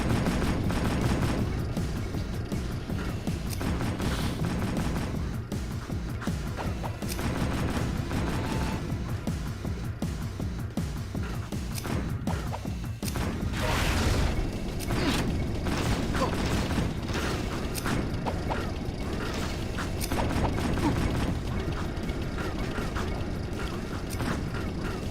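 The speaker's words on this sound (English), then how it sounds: "Activating security tank." Security tank in Jak II powering up and firing, a long stretch of dense mechanical clanking and rattling gunfire bursts, loud and continuous with game effects layered throughout.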